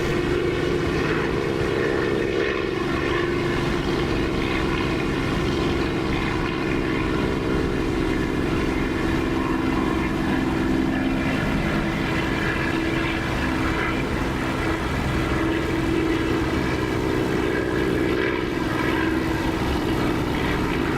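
A propeller aircraft engine in the DCS flight simulator drones at a steady, loud, continuous pitch throughout, with the throttle at zero and propeller pitch set fully fine, and no voices.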